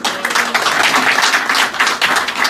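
Audience applause in a hall at a poetry gathering and awards function, dense sustained clapping filling the room from start to finish at a steady loud level.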